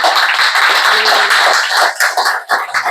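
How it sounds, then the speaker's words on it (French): An audience at a talk applauds guest speaker Céline in a packed, continuous burst of clapping that stays full for about two seconds, then thins into scattered claps. "un grand applaudissement pour Céline"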